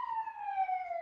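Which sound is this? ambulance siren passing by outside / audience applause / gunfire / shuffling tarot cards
ambulance siren passing by outside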